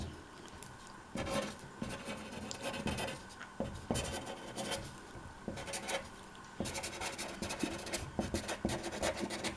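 Pen scratching across paper while handwriting a short note, in close, uneven bursts of strokes with brief pauses between words, no voices.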